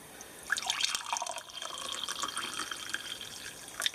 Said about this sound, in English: Okay, I'm going to pour my serving here.